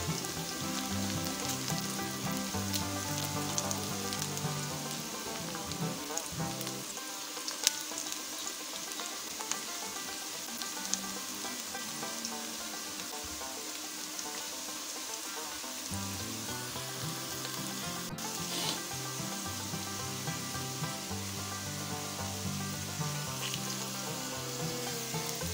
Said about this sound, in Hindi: इसको अच्छी तरह फ्राई करेंगे।